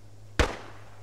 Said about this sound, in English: This is a ding after I shoot it.